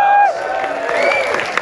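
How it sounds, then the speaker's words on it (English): Crowd applause and cheering from an audience at a London fan event with a B2EMO droid appearance, dense and sustained over a tonal whistle-like sound at the start, with voices mixed in. "What are you applauding?"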